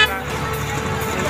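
Car horn honking in traffic: a loud, steady, close horn tone that holds for about a second over road noise.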